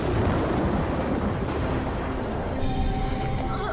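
A cartoon storm effect of heavy rain and rumbling thunder roars loudly and steadily throughout, a constant dense wash with no voices over it.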